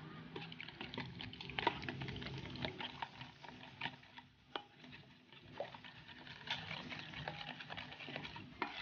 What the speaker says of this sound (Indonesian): Tambahkan 80 ml air, lalu ini diaduk-aduk sampai tercampur merata.